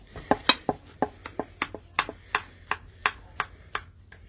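A knife slices through a golden-baked rustic tart of raclette cheese and wild garlic, giving a run of about a dozen crisp crunching cuts in a steady rhythm, close and clear, with no talk.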